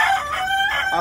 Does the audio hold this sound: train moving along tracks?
no